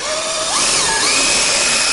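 A power drill whines loudly and steadily, rising in pitch as it bites into a seized, rusted nut on a Ford Focus stabilizer link, close up with no talk.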